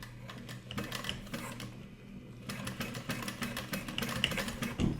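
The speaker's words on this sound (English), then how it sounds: "I have to go to the sewing machine and do a couple stitches on each side of this" A sewing machine stitches the side of a sport duffel bag in quick, rapid bursts of needle clatter, pausing briefly midway before running on, fairly close and with no talking.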